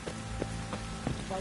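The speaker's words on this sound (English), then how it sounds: "Looks like rain." Steady rain in The Witcher 3: Wild Hunt video game makes a constant hiss with faint scattered drips, heard alone.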